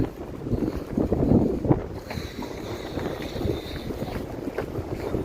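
Wind buffeting a microphone outdoors in gusty low rumbles that swell and fade, fairly faint, with no clear voices.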